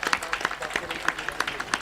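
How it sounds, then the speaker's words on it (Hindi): An audience claps for an honouring at a live three-day Manas Gaan music convention in Khajri: dense, lively applause from a crowd, steady and fairly close for the short burst. "जोरदार ताली दर्शक दीर्घ से"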